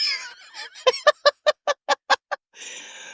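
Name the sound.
quacking duck sound effect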